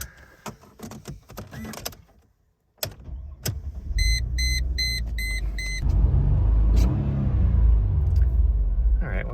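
A supercharged Mercedes C32 AMG Carlsson starts: door and cabin clatter, a run of chimes and beeps, then the engine cranks and catches into a loud, steady, rumbling idle close by.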